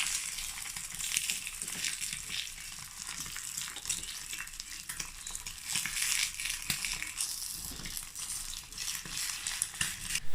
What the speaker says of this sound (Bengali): আজকের নাস্তায় হচ্ছে একটা সুন্দর করে পরোটা ভেজে নিচ্ছিলাম